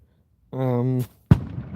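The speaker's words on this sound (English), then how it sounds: "And now we've got fireworks shaking the ground." A single loud, sharp firework boom on New Year's Eve cracks out right after a short vocal sound, then fades into a rumbling tail.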